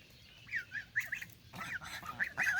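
Repeated goose honks rise and fall in short bursts over faint background noise, with a louder cluster of calls near the end.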